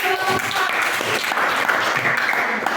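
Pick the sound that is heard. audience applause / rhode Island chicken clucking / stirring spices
audience applause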